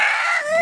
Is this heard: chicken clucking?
yes